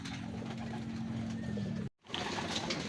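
Racing pigeons coo in low, soft repeated calls close by, cut by a brief dropout before the cooing resumes over faint background noise.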